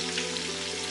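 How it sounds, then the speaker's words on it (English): Steady sizzling of onions and paste frying in a pot for smoky jollof rice, a dense close crackling hiss that goes on without a break and without voices. "Stir. Allow that to fry,"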